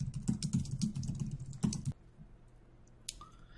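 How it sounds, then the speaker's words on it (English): Fast typing of code on a computer keyboard, a dense run of close, crisp key clicks for about two seconds, then a pause with a few faint clicks and a short whoosh near the end. "it took me about 2 minutes to type all this out"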